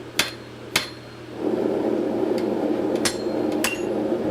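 Blacksmith hammering a hot punch through steel on an anvil while making tongs: a few sharp, ringing metallic blows ring out, separated by pauses, over a steady background roar like a forge blower.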